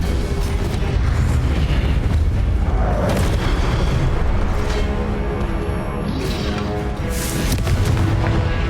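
Repeated Confringo blasting-spell explosions in the Hogwarts Legacy video game on Nintendo Switch boom loudly over a dense, continuous rumble of combat effects, with bursts and crackles layered throughout.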